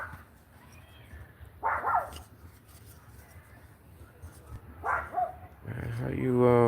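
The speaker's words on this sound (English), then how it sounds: "Roxy, what you barking at?" A dog barks in two short bursts a few seconds apart, moderately close, against quiet background noise, with a louder tonal sound rising at the end.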